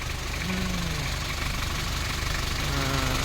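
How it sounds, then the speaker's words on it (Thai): Idling engine of a used Nissan Big-M single-cab pickup truck, a steady low rumble with faint knocking pulses throughout, close by and alone. "เป็นนิกสันบิ๊กเอ็มนะครับอันนี้ติดเครื่องอยู่นะ"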